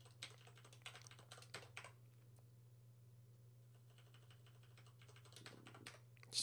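Computer keyboard typing while writing Elm code, with bursts of quick keystrokes, a quiet pause in the middle, then more tapping over a steady low hum.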